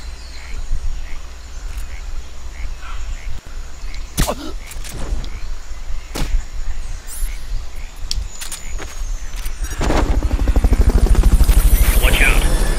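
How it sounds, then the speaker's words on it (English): Fulton recovery helicopter in Metal Gear Solid Peace Walker, its rotor chop rising into a loud, steady rhythmic thrum over the last few seconds after quieter game ambience with brief clicks and tones. "Fulton recovery helicopter is complete"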